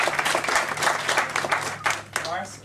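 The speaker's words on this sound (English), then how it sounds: "Round of applause." Applause from a comic convention panel audience, dense and fairly close, with voices and crowd murmur running through it and a few sharper claps near the end.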